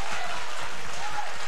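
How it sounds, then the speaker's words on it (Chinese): Congregation applause during a church worship service, a dense, steady wash of clapping filling the short moment without pause. "我们给我们的万军之耶和华一分钟的大大的热烈的掌声"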